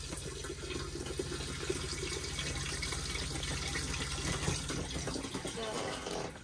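A motorhome cassette toilet in an Auto-Trail Tracker EKS flushes with steady running water rushing close by throughout, loud and continuous with no talking over it.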